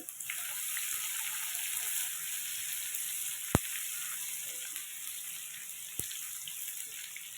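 Garlic sizzles softly in hot oil for a spinach curry, a fairly quiet, even frying hiss throughout, broken by two sharp clicks partway through.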